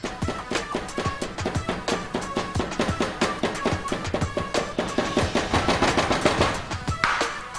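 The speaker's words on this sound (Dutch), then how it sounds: "Zo hak je." A BK kitchen knife chops food on a cutting board in a fast, steady run of sharp, close knocks, many strikes per second with no pause, and no talk over them.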